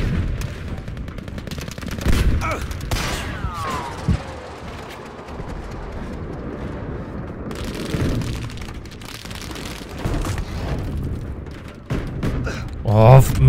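Gunfire in the video game Battlefield V, repeated shots and distant booms scattered through a busy battle din, with someone talking over it.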